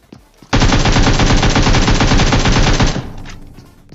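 PUBG Mobile gunfire: a loud, sustained burst of rapid automatic shots that starts abruptly, hammers on for about two and a half seconds, then cuts off into a brief fading tail.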